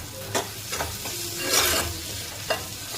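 Shrimp masala with turmeric, coriander powder and a spice mix is stirred and sautéed in a pan, with a steady sizzle under several distinct scraping strokes of the spoon.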